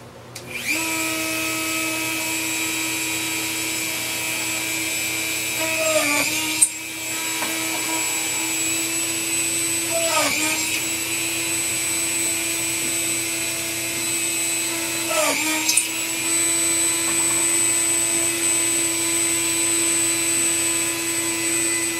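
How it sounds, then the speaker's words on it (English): A drill press whines steadily at high speed, drilling entry holes for scroll-saw cutting, with brief pauses and restarts as the bit bites into material, loud and close. "put it on the drill press to drill out some entry holes"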